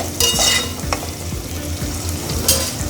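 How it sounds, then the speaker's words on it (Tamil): Onions sautéing in a pan for cuttlefish milk curry, a close, steady sizzle with rhythmic scraping stir strokes and a few bright clinks of the spoon against the pan. "வெங்காயம் கொஞ்சம் நல்லா வதங்கட்டும்"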